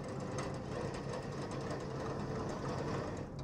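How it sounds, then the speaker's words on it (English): An electric mixer beats whipping cream until very firm, giving a steady, continuous whirring drone that holds level and close throughout with no talk over it. "a mixer here, so I make an addition of whipping cream here, and I would like to beat that until the cream is very firm"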